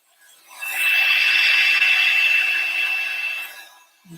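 Heat tool blowing from underneath to melt embossing powder on a baroque snowflake mandala card, a steady whooshing hiss with a high whine that ramps up, holds loud and close for about three seconds, then cuts off.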